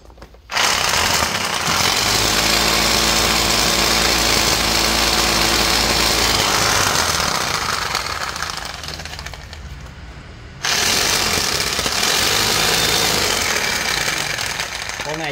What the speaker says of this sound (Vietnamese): Con này Hitachi đôi H42 đục 17 ly.